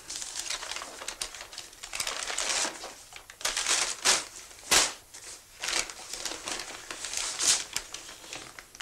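Oil paper being unwrapped crackles and rustles in irregular bursts, close by and fairly quiet, with no voices.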